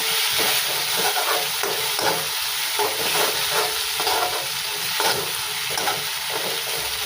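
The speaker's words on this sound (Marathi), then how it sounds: "अद्रक लसूणचा स्मेल जाण्यापर्यंत, म्हणजे थोडा जो उग्र स्मेल असतो तो जाईपर्यंत चांगली परतवून घ्यायची आहे ही भाजी" Brinjal frying with ginger and garlic in a pan, a steady loud sizzle with repeated scraping stirs of a spatula throughout, no voices.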